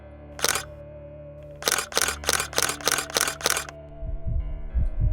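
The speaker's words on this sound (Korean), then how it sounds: "나도 모르게 터져나온 셔터 소리가 정확히 10번 울렸을 때" A camera shutter fires in a rapid burst of sharp clicks, one isolated click followed by a run of about seven, loud and close over a steady low hum, with soft thumps at the end.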